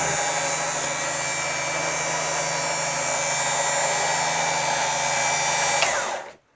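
A Smittybilt XRC 9500lb winch on a Jeep Wrangler reels in its cable, a steady loud motor whine held for about six seconds before it stops abruptly.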